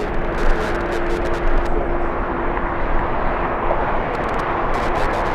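Delta Airlines jet, Delta 867 bound for Orlando, at LAX on a windy day: a loud, steady engine roar with broadband wind rumble, continuous throughout.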